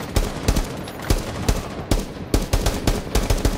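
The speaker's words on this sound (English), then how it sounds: "Yep, I'm shooting at him." Rapid gunfire from Rainbow Six Siege, loud repeated rifle bursts in a steady rhythm with sharp individual shots throughout, no talking.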